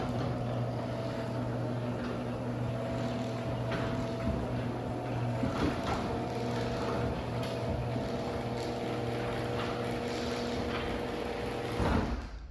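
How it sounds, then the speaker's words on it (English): A Genie IS550 garage door opener runs along its rail with a steady mechanical hum and a faint rattling rail noise, continuous and fairly quiet throughout, with a brief louder clunk near the end. "the rail's making a little bit of noise"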